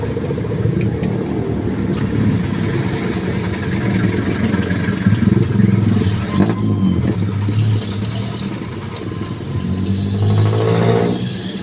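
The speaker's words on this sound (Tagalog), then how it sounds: "Try po natin i-start, mga boss. Toyota Altis po to, no." A Toyota Altis engine runs steadily and close by, a continuous mid-pitched hum with a slight rise near the end, as if revved lightly; no talking.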